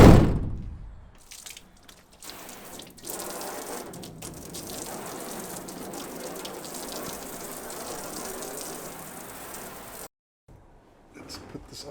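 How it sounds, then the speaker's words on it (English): Water spraying onto the outside of a car door panel fitted with sound deadening mat, a steady gushing hiss that follows a loud thunk, runs for several seconds, then stops abruptly, with brief faint sounds afterward. "how much it makes a noise when you spray water on the outside of the panel"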